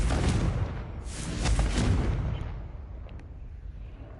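A Confringo blasting spell from Hogwarts Legacy erupts in a loud, booming explosion with a broad rumbling burst that swells and then fades into a lingering tail, with no talking.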